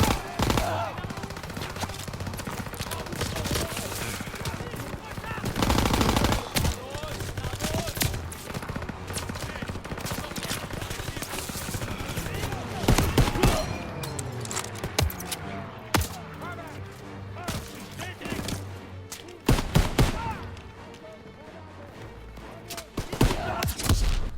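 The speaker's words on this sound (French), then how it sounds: "Ils me font un tir de couverture sur la gauche." Covering gunfire sounds in the World War II shooter Call of Duty WW2, with loud bursts of machine-gun and rifle fire coming in rapid volleys, fading briefly and then rising again, under scattered game voices.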